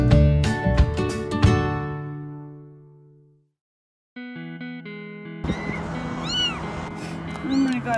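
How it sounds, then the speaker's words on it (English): A cat, apparently abandoned and just found along the way, meows several times near the start, with loud, wavering cries that trail off into silence before electronic tones and a noisy stretch follow. "look at this abandoned cat"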